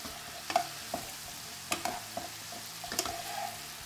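Bolognese stirred and flipped in a pan with a spoon, scattered scraping knocks over a soft low sizzle, close but fairly quiet, with no voices.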